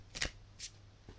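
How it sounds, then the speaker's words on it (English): Tarot cards are shuffled quietly up close, a few brief papery riffles and flicks separated by short pauses. "Now, just giving them a shuffle"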